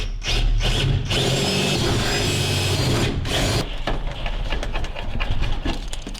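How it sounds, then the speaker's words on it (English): A power drill with a 3/16 inch bit whirs loudly and continuously as it bores holes for hardware, its pitch wavering slightly as the bit works. "we're gonna drill our holes. 3/16 inch drill bit for the hardware."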